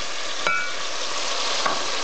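Ginger goes into a hot pan while laing cooks, giving a steady, fairly loud sizzle and frying hiss with a couple of brief clinks or stirs and no talking.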